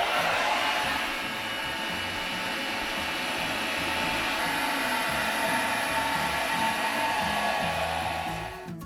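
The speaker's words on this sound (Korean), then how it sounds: "헤어드라이기로 열을 가하고" A hair dryer blows a steady loud whooshing roar while heating greasy grime inside a kitchen range hood after its filter is removed, running continuously and alone before easing off at the end.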